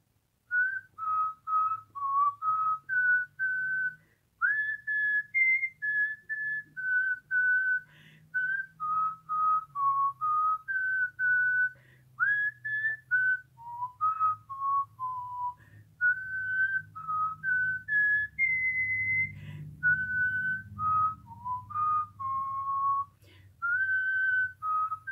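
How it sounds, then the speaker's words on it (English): A person whistles a wandering melody close by, phrases broken by short pauses and breaths, with a low hum of background noise underneath. "I want you to try it right now while I'm doing a little whistling."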